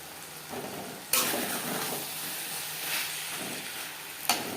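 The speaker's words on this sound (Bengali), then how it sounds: "ডাটার সাথে বেগুন বেশ ভালো করে মিক্স করে নেব তিন চার মিনিট মিডিয়াম ফ্লেমে রান্না করে দেবো" Drumsticks and brinjal are stirred in a pan over a medium flame, giving a soft close sizzle with spoon scrapes, and two sharp metallic knocks stand out against the pan.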